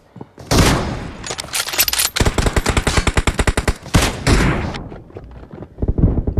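Loud automatic gunfire from an M4 rifle in PUBG Mobile rattles in rapid close bursts, broken by brief gaps and mixed with heavier single shots.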